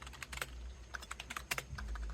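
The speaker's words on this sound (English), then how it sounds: "Let's do a typing test." Fast typing on a GEODMAER 65% wireless gaming keyboard, a quick irregular run of crisp close key clicks with no one speaking.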